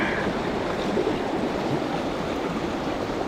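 River pocket water rushes and splashes around rocks on a fly fishing trip, a close, steady turbulent wash that carries on throughout with no talking.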